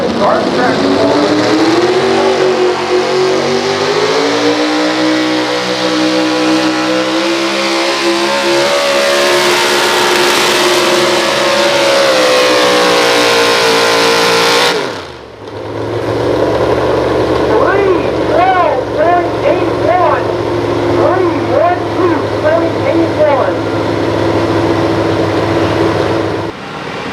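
Garden tractor engine revving hard at a truck and tractor pull, a loud sustained roar with rising and falling pitch that cuts off abruptly, then a lower idling rumble with repeated revs as voices talk over it.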